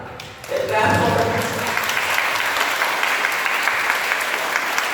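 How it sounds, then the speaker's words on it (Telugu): Audience at a children's Bible school event breaks into loud, sustained hand clapping after a brief lead-in, continuing steadily throughout with a dense, even texture. "మీకు క్లాప్స్ కొట్టడం వచ్చా"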